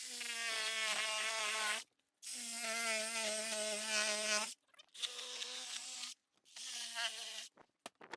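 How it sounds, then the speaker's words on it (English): Power tool, likely a reciprocating or oscillating saw, cutting out an old exterior door jamb in an old home, heard as four loud sustained buzzing runs separated by short pauses, close and with no talk. "So now I'll just cut the jamb out."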